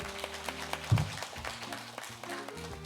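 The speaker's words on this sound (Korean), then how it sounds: "다시 한번 박수 부탁드립니다" An audience at a 2021 joint interreligious commemoration ceremony gives a short burst of applause. It is quiet, with scattered claps set in a soft crowd murmur.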